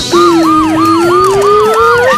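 Toy police car siren, a loud close electronic wail that sweeps rapidly up and down in a steady repeating cycle.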